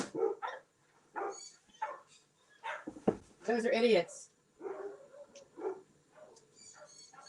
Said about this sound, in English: I gotta let this annoying dog out.